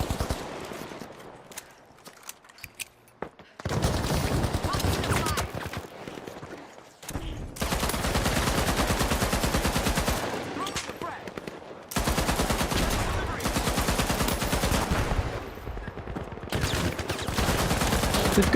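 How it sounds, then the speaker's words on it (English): A gun in the video game The Finals fires in long, loud, rapid bursts separated by brief pauses, close up and dominating the sound. "This gun jumps too much."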